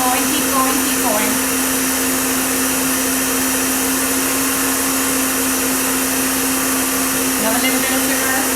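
An electric mixer runs at full speed, beating meringue with sugar for a Victoria sponge in a steady, loud whir with a constant hum and faint clinks against the bowl.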